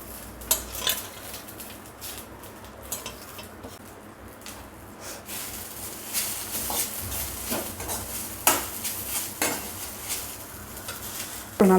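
Curry leaves roasting in a kadai, metal spatula scraping and clattering against the pan over a soft crackling sizzle, with louder stirring bursts toward the end and no voices.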